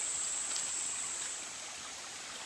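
A waterfall and stream flow somewhere in the wilderness, making a steady, even rush of water that fades slightly toward the end. No voices or other sounds break through.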